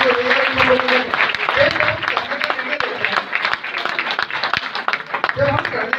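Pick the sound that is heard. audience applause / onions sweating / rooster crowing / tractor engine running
audience applause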